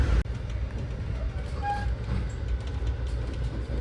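Heard from inside a passenger train car, a steady low rumble rolls along the rails with a faint squeal partway through.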